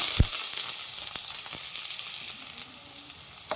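Chopped green chillies and onion frying in a pan for gobi Manchurian, a close, steady sizzle with a few sharp stirring clicks, no talking.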